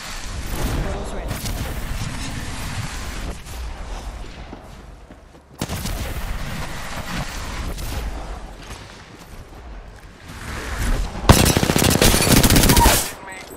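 Sustained automatic gunfire in a first-person shooter, steady rattling bursts through most of the stretch that build to a loud, dense volley near the end, with talk mixed in.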